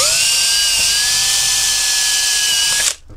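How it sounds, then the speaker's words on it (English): A power drill boring holes into an automotive AV panel whines steadily and loudly at close range for nearly three seconds, then cuts off abruptly into near silence. "So just going to be a bit ginger in how I drill these out."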